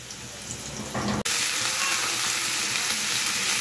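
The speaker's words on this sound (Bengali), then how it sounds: "এবার আমি মাংসটা আর কি একটু ভেজে নিচ্ছি" Meat and potatoes frying in oil sizzle loudly and steadily up close, with a brief cut just after one second before the hiss resumes at full strength.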